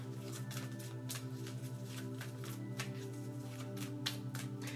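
Tarot cards riffle and slide in a quiet indoor shuffle, a run of soft repeated flutters and snaps over a low steady hum, with no talking.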